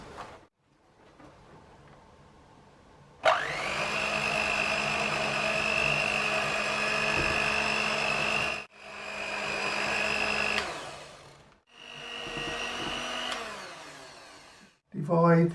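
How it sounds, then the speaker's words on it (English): An electric mixer beats chocolate cake batter with a steady motor whine that runs in several bursts, stopping and restarting between them. "Using an electric mixer, mix on low and then on medium for about 3 minutes"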